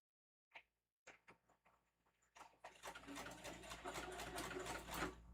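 A Singer heavy duty sewing machine zigzag stitching fabric for a Halloween tote bag; a few hesitant mechanical thumps give way to a steady, rapid, close whirring run of stitches.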